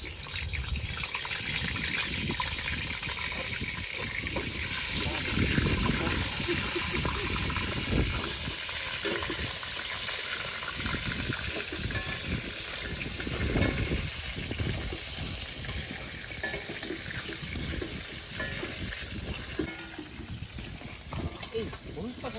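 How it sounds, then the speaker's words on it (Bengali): Potatoes fry in a pan at an outdoor picnic cook-up of pork and rice, a steady hiss and sizzle running throughout under nearby people talking. "এই আলুটা ভেজে নিলাম।"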